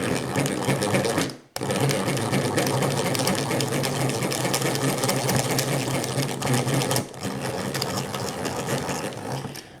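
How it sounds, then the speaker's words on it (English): Hand-cranked butter churn turning thick cream into butter, a steady close mechanical whirring and clicking from the gears that runs continuously, with one brief pause near the start and a slight drop in level later. "It's really hard to crank now."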